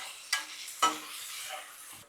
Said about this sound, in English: go ahead and mix up our bacon over here